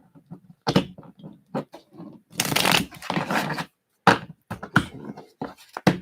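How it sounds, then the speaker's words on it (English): A deck of tarot cards being shuffled in several quick riffling bursts, with a longer rustling run in the middle, close and fairly loud. "We're going to shuffle this."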